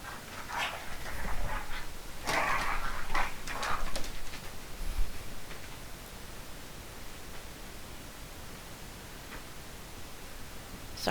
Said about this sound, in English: Sorry about my dogs fighting in the background.